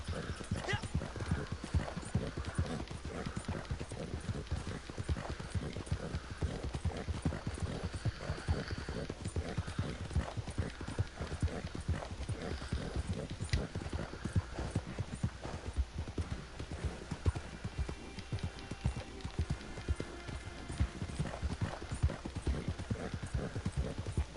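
Horse hooves clip-clop in a steady, continuous rhythm throughout a long stretch of riding in the video game Red Dead Redemption 2, with a dense, busy ambient backdrop.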